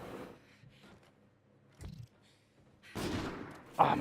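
Sniper shots in a shooter video game, with a few sharp cracks spread apart and a louder burst near the end, set against quiet moments between the shots.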